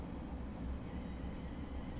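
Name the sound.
Thameslink Class 700 train braking, from a train simulator video game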